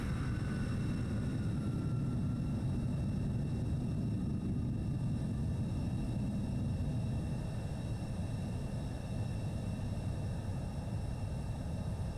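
Pilatus PC-24 business jet in flight in Microsoft Flight Simulator 2024, a steady faint broadband engine and wind roar with no voices.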